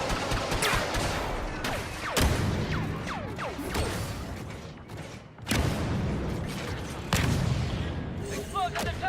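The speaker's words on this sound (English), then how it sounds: "Explosion detected at the rear pipes!" Explosions and bursts of gunfire from the Star Wars Battlefront 2 video game, with heavy booms and clattering shots layered over a dense battle din, and voices talking among the continuous noise.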